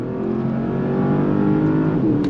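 Porsche Panamera GTS engine pulling hard at full throttle, a loud, steady rising roar held close and continuous with no talk over it.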